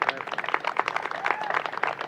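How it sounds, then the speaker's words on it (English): Faint applause from an audience at a Lakeridge Health event, honouring doctors, staff and the board of directors, a steady patter of hand claps heard at some distance. "How about giving them all a big round of applause?"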